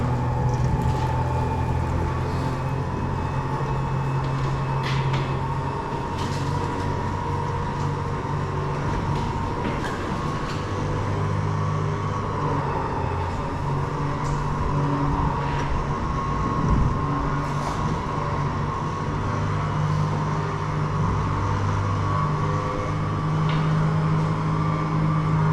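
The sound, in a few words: 1967 Pontiac Grand Prix convertible driving onto trailer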